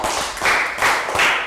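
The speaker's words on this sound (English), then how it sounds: "Round of applause for Pat." Classroom clapping during a primary English lesson, three quick bursts of hand claps from a small group of pupils, close and fairly loud with no talk over them.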